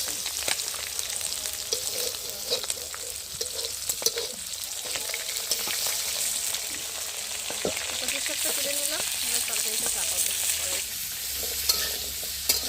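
Snakehead fish sizzle steadily in a pan of hot oil over a gas flame in a Sundarbans village kitchen, with stirring scrapes and occasional clinks throughout; no one speaks.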